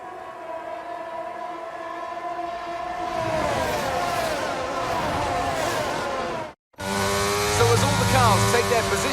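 F1 cars in the video game F1 22 set off on the formation lap at Silverstone in dry conditions, engines whining and rising in pitch as they pull away, loud and layered, with a commentator's voice over them.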